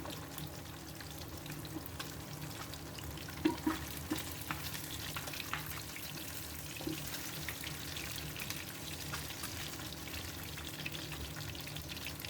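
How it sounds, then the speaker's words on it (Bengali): Steady low sizzle of river fish frying in hot oil in a wok, continuous throughout with a few faint clinks of a utensil against the pan. "কড়াই গরম করব, তারপরে তেল গরম করব, তারপরে মাছ দেব"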